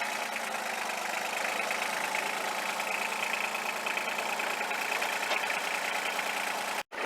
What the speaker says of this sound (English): Side hilling here with the tractor, I don't like it.